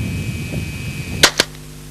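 A 1977 experimental low-recoil submachine gun by Alan Halla fires two sharp, close shots in quick succession after a quiet lead-in, followed by a brief ringing tail.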